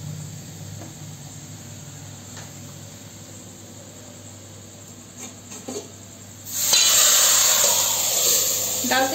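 A quiet kitchen background, then a sudden loud sizzling hiss bursts in near the end and keeps crackling as hot oil tempering is poured onto cooked lentils for dal tadka.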